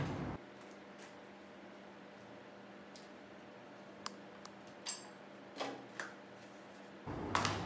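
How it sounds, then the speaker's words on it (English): An air nozzle is cut off a bicycle inner tube: a quiet room, then a few sharp snips and clicks near the end, close and brief. "We're just going to cut that off."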